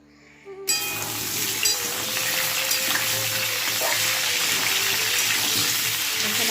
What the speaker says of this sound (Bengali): আলুর দম করছি বন্ধুরা তো আলুটাকে ভালো করে লাল লাল করে ভেজে নেব